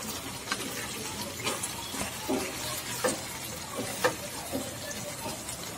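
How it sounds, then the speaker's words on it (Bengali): Mutton curry with potatoes being stirred in a pan after long frying in its own oil, soft sizzling under a series of scraping, clacking strokes of a spoon at a slow, irregular rhythm. "আরও একবার একটু ভালো করে নাড়াচাড়া করে নেব।"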